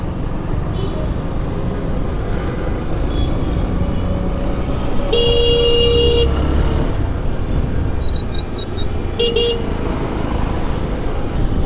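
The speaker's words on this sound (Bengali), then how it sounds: "দিন দিন এই অটোরিকশাগুলো আর উৎপাত বেড়েই যাচ্ছে।" Dense city road traffic with auto rickshaws and CNG vehicles, a steady engine rumble broken by two bursts of loud, close horn honking, the second a quick double toot.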